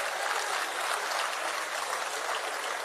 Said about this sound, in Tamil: உங்களின் பலத்த கைத்தட்டலோடு